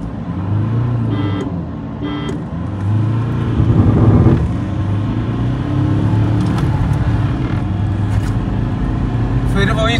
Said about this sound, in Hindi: 80 पे पहुंच गई, थर्ड गियर डल गया, 90 पे आ गई गाड़ी, फोर्थ गियर डल गया